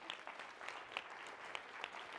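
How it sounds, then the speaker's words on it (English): A small audience gives a short, light round of applause for a participant, steady patter of claps close by with no talking over it. "a little round of applause for our friend"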